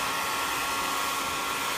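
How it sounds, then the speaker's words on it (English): A handheld dryer blows air over the drop coat of a Bichon or Havanese at a grooming shop, a loud, steady, broadband whoosh that holds constant and close with no voices. "I will always do with a stand dryer or with a hand dryer like this"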